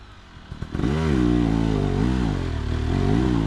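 Trail motorcycle revving hard while climbing a rain-slicked uphill trail with worn, bald tires, a close, loud engine that surges and wavers in pitch for several seconds after a brief clatter.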